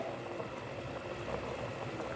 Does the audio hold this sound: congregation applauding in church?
no